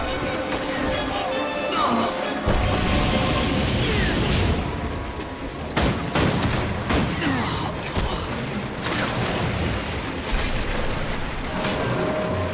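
Rockets launch in Guild Wars 2 combat, a dense barrage of booming bursts and mechanical whooshes layered over game effects, loud and continuous with sharper blasts near the middle.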